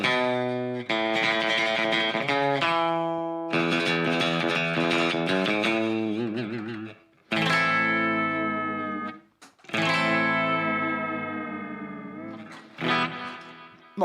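Clean electric guitar phrases with sustained, ringing notes and a wash of reverb, played alone in bursts separated by brief pauses.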